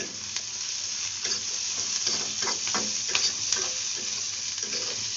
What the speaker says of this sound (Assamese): পিয়াজখিনি মোটামুটি ভজা গৈছে ঘিউত ভজা